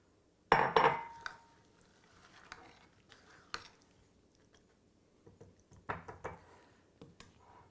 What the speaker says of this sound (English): Mix it together, add some peanuts.